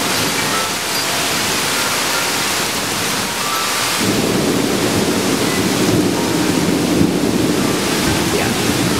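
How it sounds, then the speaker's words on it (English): A Florida thunderstorm roars with heavy rain hissing throughout, and a loud, deep rumble of thunder rolls in about halfway and keeps growling under the downpour, close and powerful. "hopefully you've seen what a Florida thunderstorm can be like"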